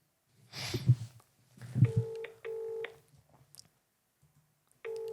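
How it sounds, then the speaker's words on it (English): A telephone number being dialed, several short DTMF tones in quick succession after some rustling handling noises, close and clear, with another tone starting at the end. "Right, let's ring my mum. Go on, ring her."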